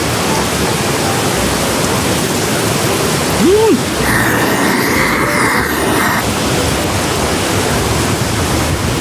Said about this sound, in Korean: 타프에서 들리는 빗소리가 너무 좋습니다